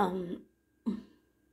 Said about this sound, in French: je tousse beaucoup